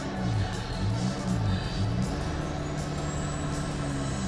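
A Mitsubishi Triton revs out of soft beach sand after being bogged, a loud, close engine drone rising and falling in pitch before settling into a steady pull.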